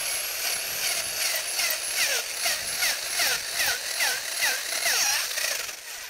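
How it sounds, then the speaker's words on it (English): Power drill bores a hole in garden soil for planting bulbs, a close, loud whine that pulses and wavers in pitch as the bit bites and steadies, with a rough grinding texture throughout. "then it'll make a lot of noise, but the whole thing is steadying the drill"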